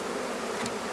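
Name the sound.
honey bees buzzing while installing package bees in a hive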